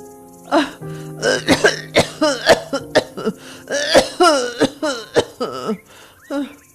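Repeated harsh, rasping coughs come in a long, rapid series of hacking fits, close and loud, with strained throat sounds between them.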